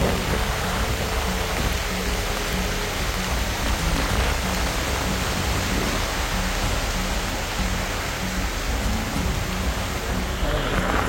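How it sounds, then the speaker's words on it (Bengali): Heavy rain pours down on a mountain trail near Alikadam in Bandarban, a steady, dense, loud roar that holds for the whole stretch with a low rumble underneath and no voices. "আর যেই ভয়ঙ্কর বৃষ্টি"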